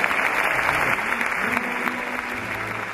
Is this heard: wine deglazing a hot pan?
no